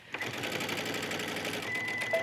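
A sewing machine runs continuously at steady speed while stitching a cuff trim seam, its rapid mechanical whir and needle clatter close and even for a couple of seconds.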